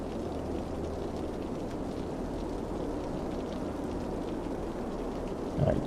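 Steady rainfall in the city-building game Cities: Skylines, a dense even hiss of rain with a low rumbling undertone, constant throughout and ending with a brief louder swell.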